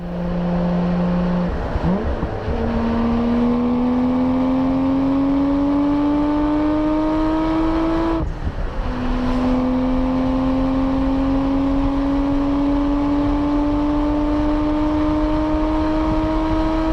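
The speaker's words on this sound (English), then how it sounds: "has a Trust TI catback exhaust" A Nissan Skyline GT-R fitted with a Trust titanium catback exhaust accelerates hard, its engine note climbing steadily through two gear changes with brief dips at each shift, loud and close.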